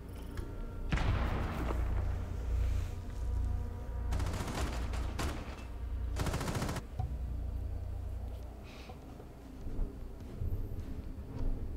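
Gunfire in Rainbow Six Siege, with bursts of rapid automatic shots and sharp louder volleys over a low rumbling game backdrop, the shooting coming in clusters with gaps between.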